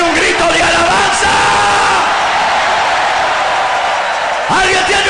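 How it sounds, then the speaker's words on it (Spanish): A church congregation at a Spanish-language service raises a loud, sustained shout of praise, a dense crowd roar that carries throughout and swells again toward the end. "¿Alguien tiene un grito de alabanza?"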